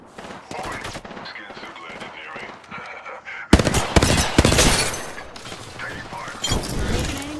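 Shotgun gunfire in the video game Apex Legends, loud blasts and a burst of rapid shots over dense game action and effects, with a player talking at moments.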